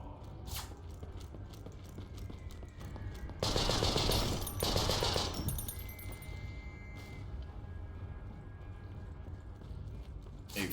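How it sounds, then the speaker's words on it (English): A fixed machine gun position fires in the video game Conscript, one rapid burst of a couple of seconds standing out among scattered single shots and mechanical clicks, fairly quiet overall. "A fixed machine gun position with only a few dozen rounds."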